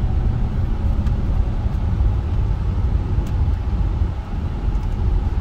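A 2003 Jaguar XKR with a 6-speed automatic transmission drives along, giving a steady, loud interior rumble of engine and road noise with no audible break at gear changes and no talking.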